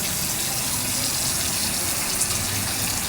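Steady broadband rush of tap water running into a sink as hands are washed beneath it, continuous and fairly loud throughout with no talking.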